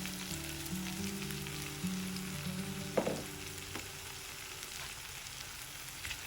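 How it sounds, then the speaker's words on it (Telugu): Brinjal pieces fry quietly in a pan coated with ground spice powder, giving a soft, low sizzle with a brief scrape or clatter partway through. "మొత్తం కలుపుకుని ఈ పొడితో 1 నిమిషం వేగనివ్వండి."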